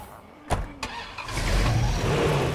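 A car engine starting in State of Decay 2, two sharp clicks followed by the engine catching and settling into a steady, loud mid-pitched running rumble.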